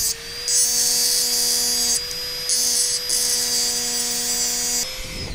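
A high-speed glass engraving drill spinning at around 40,000 RPM, its steady high-pitched whine holding a constant tone with brief dips and restarts, close and loud with no talking.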